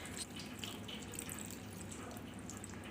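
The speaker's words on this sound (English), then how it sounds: "Continue pouring running water and see that there is no lump of chena left behind." Running tap water pours over chena (fresh paneer) being rinsed of lemon for rasmalai, a soft steady trickle and splash into a sink, fairly quiet and continuous.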